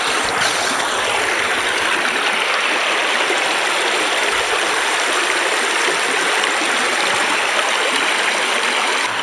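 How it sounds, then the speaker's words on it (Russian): A shallow, low-water river in the Byrranga mountains of Taymyr flows over rocks, a steady, loud, broadband rushing and babbling that continues unbroken throughout, close by with no voices. "Нет, очень маловодная речка."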